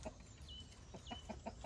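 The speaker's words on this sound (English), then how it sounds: "Good morning, chickens." Hens clucking softly in a chicken coop on a farm in Portugal, a few quiet short calls and chirps close by, with no voices over them.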